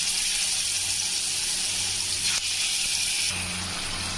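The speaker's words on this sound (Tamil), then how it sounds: "நம்ம வந்து ஷாலோ ஃப்ரை பண்ணிக்கலாம்." Marinated chicken tikka shallow-frying in a pan of oil gives a steady, close sizzling hiss that holds throughout, briefly shifting in intensity near the end, with no voices.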